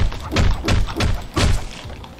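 Fists thump into zombies in the Hotline Zombies video game, four dull, muffled punches in a quick loose rhythm, loud and close over a busy game background.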